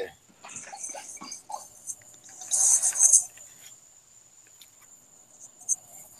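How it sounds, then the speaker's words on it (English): Crickets chirping in a steady high-pitched drone down below, faint and continuous, with a louder chirring burst partway through; people talk intermittently over it. "it sounds like the crickets are chirping down there"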